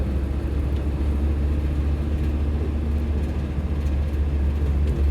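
Land Rover fitted with a freshly built high-ratio gearbox and new clutch, driving along with a steady, loud, noisy drivetrain rumble and whir heard from inside the cab, continuous with no talking.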